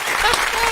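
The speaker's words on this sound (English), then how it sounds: "Can you give yourself your own applause for that one?" A short, dense burst of applause from a small crowd, loud and close, lasting under a second.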